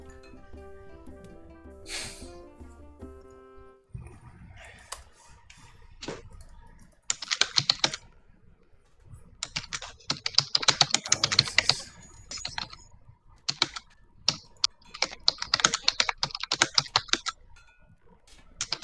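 A noisy computer keyboard used as a push-to-talk key during an online tabletop role-playing session, with rapid close clicking and clattering in irregular bursts over faint background sound.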